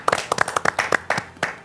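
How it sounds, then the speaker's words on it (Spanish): A short burst of audience clapping in honour of an archbishop at a church gathering, a handful of uneven nearby claps over under two seconds. "Un aplauso a nuestro arzobispo."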